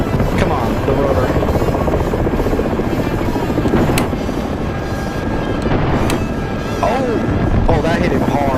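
A helicopter in a video game comes under fire from high-explosive 23 mm autogun rounds, its steady rotor thrum loud throughout and broken by sharp impact bangs, with a voice talking over it.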